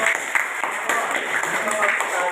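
Family members applaud during a teacher's presentation, giving brief, moderately loud clapping mixed with speaking voices.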